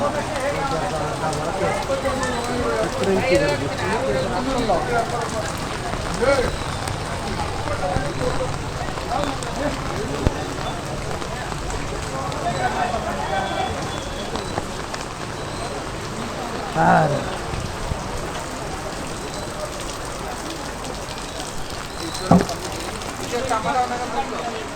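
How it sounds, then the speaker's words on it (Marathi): Steady light rain patters throughout at an open fish market in Konkan, with a busy crowd murmuring and calling in the background and an occasional knock. "सकाळपासून कंटिन्यू पाऊस पडतो."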